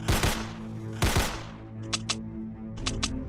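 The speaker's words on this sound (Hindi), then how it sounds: "ज़ॉम्बीज को आता देख शॉन उनके ऊपर फायरिंग करने लगता है और गुल्ली भी फौरन अपनी बंदूक से ज़ॉम्बीज को मारने लगता है।" Cartoon gunfire at zombies comes as two loud, sharp blasts followed by quicker, lighter bursts of shots, each with a short ringing decay.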